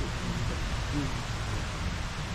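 Heavy rain pours down in a steady, dense hiss that fills the whole stretch without pause, loud and close, as though heard from under a shelter.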